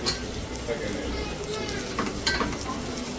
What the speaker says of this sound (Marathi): आता पटकन आपला कांदा जो आहे तो फ्राय होणार